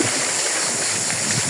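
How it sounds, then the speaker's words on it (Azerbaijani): Floodwater rushes by at night as a dense, steady hiss with continuous turbulent wash, close and fairly loud, with no speech over it. "Gecə burada dəhşət sel gedir, bax."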